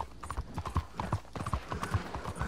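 Rapid hoofbeats of a galloping horse in Red Dead Online drum steadily and close, with no one talking over them.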